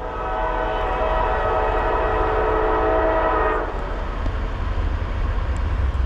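Norfolk Southern freight train led by an EMD SD70M-2 passing at 50 mph, opening with a loud sustained horn blast that cuts off after a few seconds, followed by the heavy rumble of the train rolling past close by.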